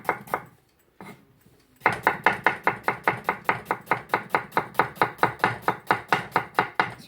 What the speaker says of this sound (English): you hold the blade with the two fingers so it doesn't move about, and you do a slight slicing motion towards yourself